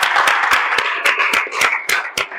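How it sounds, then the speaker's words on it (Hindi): An audience claps for NDS founder Chauhan at a health camp, a close burst of quick, uneven hand claps that keeps going steadily. "एक जोरदार तालियां हो जाए चौहान साहब के लिए।"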